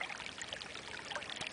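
Water gushes steadily from a backyard drain pump pipe, a continuous close splashing pour with no pauses and no voices.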